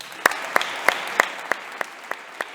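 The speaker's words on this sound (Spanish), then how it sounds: "quiero que todo el mundo, por favor, te dé un aplauso" Audience at an arbitration conference claps in a steady, evenly spaced rhythm, each sharp clap standing out over a light wash of room noise, moderately close with no talk.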